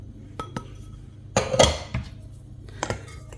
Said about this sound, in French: je mets tous les ingrédients secs ensemble